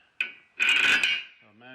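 Metal parts are ground down flat with a power grinder while a lawn care truck is being built, giving a harsh rasping burst that starts after a short scrape and holds steady for most of a second before dying away.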